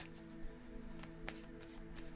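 Tarot cards being shuffled by hand, soft papery riffles and taps scattered over about two seconds, faint and close, with no talk.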